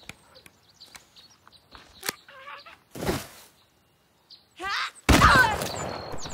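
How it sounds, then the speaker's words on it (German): A single sharp gunshot from a firearm in the survival video game The Forest, a loud broadband burst that rings out briefly after a few faint clicks and thumps. "Ein Schuss. Irgendwo getroffen."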